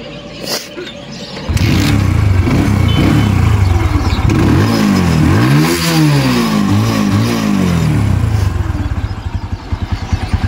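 A TVS Apache RTR motorcycle engine revs hard after a short quiet start, rising and falling through several throttle blips with a steady idle underneath, loud and close, with no talk.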